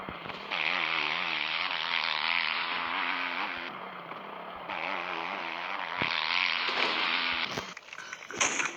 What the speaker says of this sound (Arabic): زين هاد الموتور.